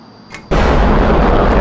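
An F-22 fires missiles in a flight video game: after a brief quiet moment with a faint click, a sudden loud launch blast erupts and settles into a dense, sustained roaring rush that fills the rest of the moment.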